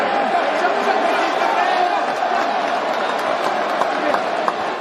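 A large crowd at a UFC fight reacts to Donald Trump with a loud, continuous roar of cheering and mixed voices that holds steady throughout.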